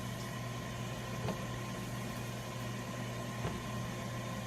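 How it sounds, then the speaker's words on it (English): A steady appliance hum and whirring fan drone run continuously at low volume, with a faint click or two. "That's my air fryer going."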